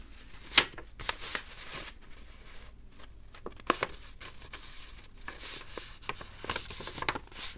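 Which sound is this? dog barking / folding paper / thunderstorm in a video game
folding paper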